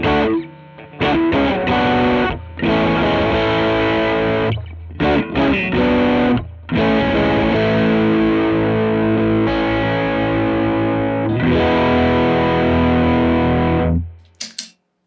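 Electric guitar driven through a Catalinbread CB Series one-knob distortion pedal, playing loud sustained crunchy chords and riffs with short pauses between phrases, ringing out near the end.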